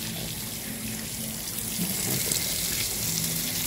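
Water pours steadily from a tap while freshly caught tilapia are rinsed, a close, continuous splashing stream that swells slightly louder toward the end.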